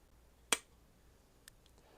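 A Real Steel slip joint pocket knife blade snaps shut once, giving a sharp, close click with a thump. A fainter small click follows about a second later against a quiet background.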